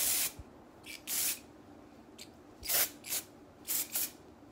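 Style Sexy Hair spray clay hisses from an aerosol can onto lifted hair in several short, close bursts, some paired, with quiet pauses between.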